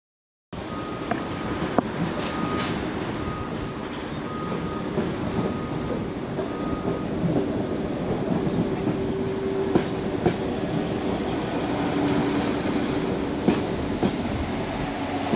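A Class 08 diesel shunter locomotive arriving at Severn Valley Railway rumbles steadily nearby for a sustained stretch, with rail clatter and faint metallic squeals, no talking.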